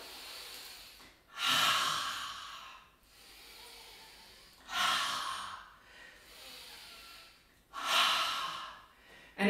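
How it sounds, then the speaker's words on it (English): Slow rhythmic yoga breathing, three long audible breaths with pauses between, the exhales pushed out through the mouth as loud breathy cleansing breaths close to the microphone. "when you exhale through the mouth like that, where you make that little noise, in yoga that's called a cleansing breath"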